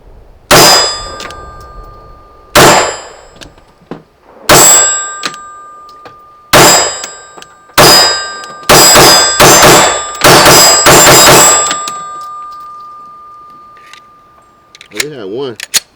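A Glock 45 pistol fires loud, sharp shots, first five spaced a couple of seconds apart with metallic ringing after each, then a fast burst of rapid shots, and a brief voice follows at the end.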